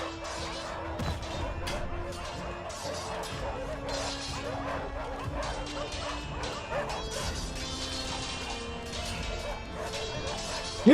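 Dogs in a video game bark and yip repeatedly in quick bursts, mixed with whimpers and clattering game sounds over a steady busy background.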